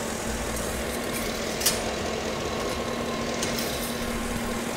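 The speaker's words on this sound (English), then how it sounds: "with our transmission in park and the vehicle running" Steady low engine idle from a vehicle in park with the transmission engaged, fitted with a Derale Series 8000 plate-fin transmission cooler; a constant hum with a faint tonal drone runs unbroken throughout, no voices.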